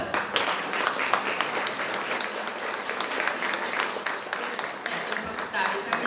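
Audience applause at a children's contest award ceremony as a prize-winning vocal group comes on stage, dense sustained clapping from a crowd with some voices mixed in.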